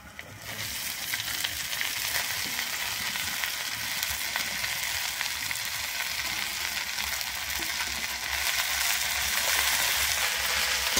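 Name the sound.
frying chopped red amaranth greens with onions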